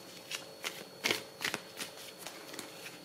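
Petit Lenormand oracle cards being shuffled by hand, a series of soft, crisp riffling bursts at an irregular rhythm, close up and quiet, with no one speaking.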